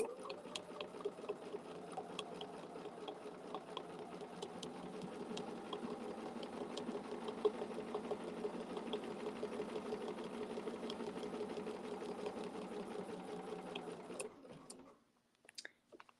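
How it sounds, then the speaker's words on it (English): Sewing machine stitching around fabric, a steady close whirring hum with rapid needle clatter running continuously before stopping abruptly near the end. "I'm going to hold these threads as I stitch around."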